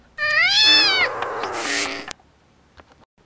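A cat lets out a loud, close, drawn-out meow that bends and wavers over about two seconds, in a stable at Christmas, followed by a sharp click and a few faint knocks in near silence.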